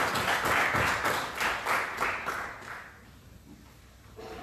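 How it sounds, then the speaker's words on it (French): At a municipal council meeting in Barsac, a short burst of clapping from a small group of councillors rings out for a couple of seconds, then fades to the quiet room. "Je vous applaudis."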